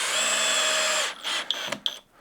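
A compact cordless drill whirs steadily at high speed for about a second, then spins down and gives a couple of short, sharp bursts before stopping.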